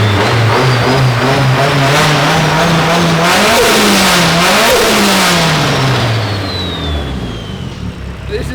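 A fully built Nissan 180SX engine revs loudly on its first drive, the rough exhaust note rising and falling through several close, strong pulls before settling toward a lower rumble as it fades slightly.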